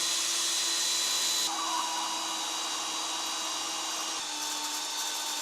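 A power drill whines steadily and bites into old brick, the pitch shifting slightly as it works, loud and close.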